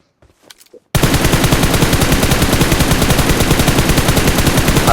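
Gunfire in the mobile game BGMI starts after a short moment of quiet and becomes a loud, rapid automatic burst that keeps going in an even rhythm.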